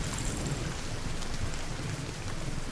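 Steady rain hisses through a stormy street scene in The Division 2, a dense, even wash of drops with low rumbling underneath, no voices.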